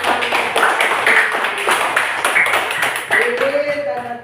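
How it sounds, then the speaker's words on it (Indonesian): Schoolchildren in a classroom clap their hands together, a lively patter of many quick claps over about four seconds, with a voice briefly heard near the end. "tepuk tangan."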